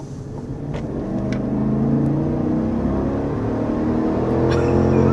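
A 2023 GMC Yukon Denali Ultimate XL SUV accelerates, its engine building to a steady, rising drone under road and tire noise that holds at a constant moderate level for several seconds.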